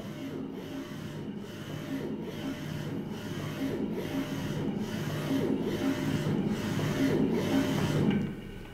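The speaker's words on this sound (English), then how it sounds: "I just can go straight ahead and drive it back and forth." A LINAX Lxs F120 high-precision linear stage motor runs back and forth, producing a faint steady whirring hum broken by regular soft ticks at each reversal, growing slightly louder before stopping.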